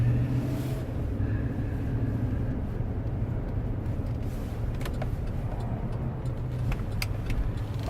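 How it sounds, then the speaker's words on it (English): Low, steady whoosh of the interior fan running on low inside a quiet 2011 LTZ car, a constant soft broadband hum with a few faint clicks, no talking. "I can hear the fan on the inside, and it's on low, but it's not distracting."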